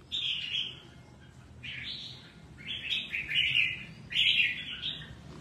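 A caged songbird sings in short, bright whistled phrases, about five bursts separated by brief pauses, close and clear over a low background hum, with no one talking.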